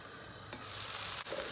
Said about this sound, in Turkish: Orta ateşte kavuracağız.